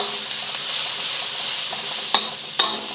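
Garlic and fresh chilies fry in a wok with a steady close sizzle, and two sharp scrapes of a spatula stir the food near the end.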